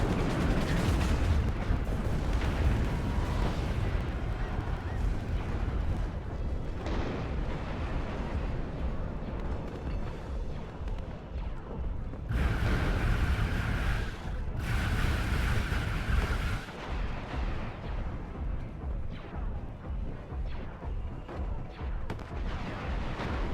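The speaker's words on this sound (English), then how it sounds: "See that artillery coming in too, pretty strong." Artillery fire in a large Star Wars WARNO strategy game battle, heavy continuous rumbling barrages and explosions rolling on throughout with a few sharper bursts, dense and loud, no voices.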